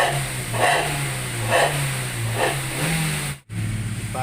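Aftermarket Suos ngorok exhaust fitted to a manual Grand Max van, its engine idling with a steady low rumble and a few gentle revs, close to the tailpipe, with no talking.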